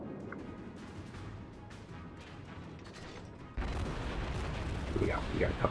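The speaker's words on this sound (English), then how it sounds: "Another salvo." A St Louis cruiser fires a gun salvo in the naval battle game World of Warships: a continuous rumbling battle din jumps abruptly louder partway through as the salvo goes off, followed by sustained heavy roaring and crackle.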